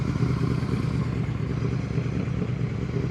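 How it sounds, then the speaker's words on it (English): A motorcycle engine runs with revs held a little high during slow-speed riding practice, a steady, close rumbling drone with no break. "make sure you're listening to your revs. They're a little high."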